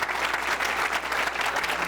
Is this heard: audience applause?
yes